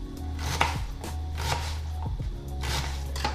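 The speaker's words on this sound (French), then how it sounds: "Et maintenant je vais couper cet oignon en petits morceaux." Onion being chopped into small pieces with a kitchen knife, giving a few sharp, separate knocks on the cutting board over a steady low hum.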